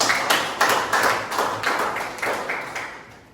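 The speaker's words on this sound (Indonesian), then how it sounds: "Oke, berikan tepuk tangan." A classroom gives a short burst of applause, a handful of quick, moderately loud claps in an uneven rhythm fading out after a few seconds.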